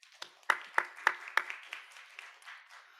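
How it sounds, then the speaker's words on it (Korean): At a Sunday youth worship service, the congregation applauds the choir and worship team with a few sharp, distinct claps that thin into scattered, softer clapping, fairly sparse and moderately close. "우리 수고한 에브라임 찬양대 그리고 에바다 찬양팀을 격려하면서 박수하도록 하겠습니다"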